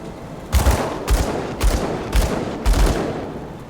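Five evenly spaced gunshots ring out in the video game Grim Dawn, each a sharp, booming blast with a short tail, loud and close, with no voice over them.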